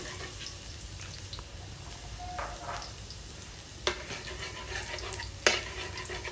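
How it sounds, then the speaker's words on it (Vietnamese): Garlic fries in hot pork fat in a home kitchen, giving a quiet steady sizzle broken by a few sharp clinks and scrapes of a utensil against the pan, with no talking. "Khi nào mỡ nóng á, mình để tỏi vô. Mình phi mỡ tỏi trước nha."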